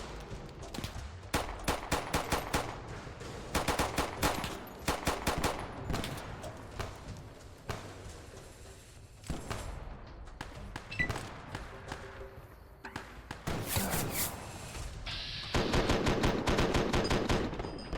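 Rapid gunfire in Fallout New Vegas aimed at a sniper, with bursts of repeated shots and heavy thumps clustered into loud volleys, alone and close throughout.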